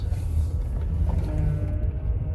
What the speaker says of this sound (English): this power steering pump. Still making the noise,